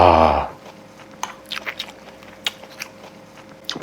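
Close, soft chewing and crunchy bites of pork jowl with stir-fried cabbage, a few irregular moist crunches following a brief burst of sound at the start.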